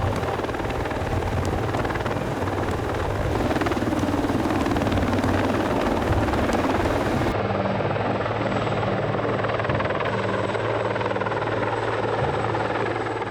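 CH-53 helicopter carrying an underslung field loader, a steady loud rotor and engine roar that continues without a break, with a throbbing low rumble throughout.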